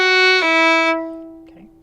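A slow fiddle plays a measure of Bonaparte's Retreat: one clear bowed note shifts into a long sustained tone that fades out, solo and close with no talk.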